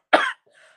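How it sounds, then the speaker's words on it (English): A single sharp, close cough from a person, followed by a faint breathy vocal trailing off. "this cough"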